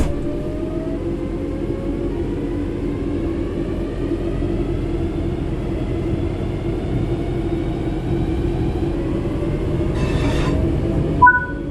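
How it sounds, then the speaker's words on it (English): In the Train Sim World 4 video game, a train coasts on level ground after the throttle is cut, with a steady low rumble of wheels and faint tonal whines and a brief hiss near the end. "The train will then coast on level ground, and the train will only slow down very gradually."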